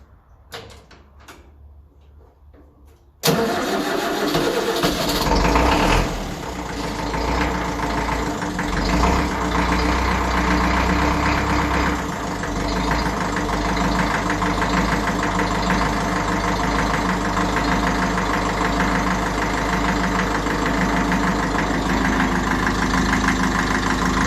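A 1957 Ferguson 35 tractor, used for carting stone, cranks and fires after a few quiet seconds. It settles into a loud, steady, rough diesel idle that runs close by and alone to the end.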